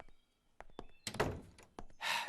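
A door being shut indoors during a tense scene in a drama, a brief thunk and bang of the door closing, followed by a burst of rustling noise.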